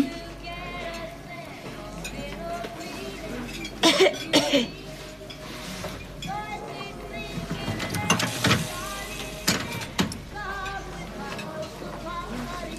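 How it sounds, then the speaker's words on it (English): A few short, sharp coughs break through quiet conversation, with a couple of bursts close together and another a few seconds later. "Seem to have a cough."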